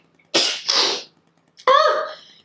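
A sneeze from a pregnant woman indoors, close and loud: two quick bursts followed by a voiced, tonal exhale, with quiet around it and no talk.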